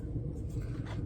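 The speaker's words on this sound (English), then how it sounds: "well, there's some thunder." Low, continuous thunder rumbles steadily for about a second, deep and fairly distant-sounding, with no voices over it.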